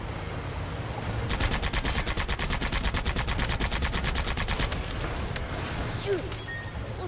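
Rapid gunfire from the Sand Land video game on PS4: a steady run of sharp automatic shots lasting several seconds over a dense, rumbling game soundscape, with faint game voices in the mix.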